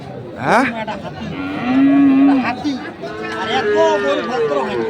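A Sahiwal bull moos loudly and close by at a cattle market, a long drawn-out low call with shorter moos around it, while people talk in the background.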